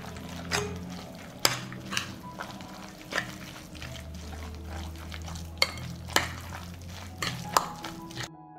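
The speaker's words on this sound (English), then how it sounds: "A little lemon juice. And I'll mix it all up." Spoon stirring ingredients with a splash of lemon juice in a bowl, scraping in a steady rhythm punctuated by several sharp clinks against the sides, close and moderately loud with a low background hum.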